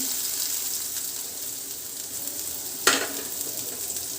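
Tomato, ginger garlic paste and chilli powder frying in a pan for a pepper crab fry, a continuous close hiss with a sharp spatter or stir scrape near the end, no voices.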